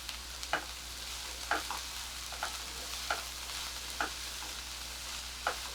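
Onions with salt and a little coriander sauté in a pan, giving a soft, continuous sizzle punctuated by regular spatula scrapes and taps roughly every second.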